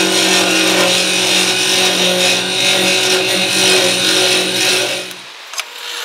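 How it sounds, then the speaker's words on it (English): A lathe turns down a scrap-wood cap for a cigar tube style pen box, giving a loud, steady motor hum with a tonal whine that runs without a break and then drops away abruptly near the end, leaving a faint click. "So I'm gonna whittle that down with the lathe"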